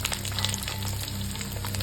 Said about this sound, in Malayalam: അതിലേക്ക് നമ്മൾ ചെറുള്ളി ഇട്ട് കൊടുക്കുകയാണ്.